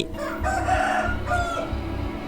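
A rooster crows in a Roblox video game, giving several drawn-out, loud crowing calls in quick succession, close and with no talk.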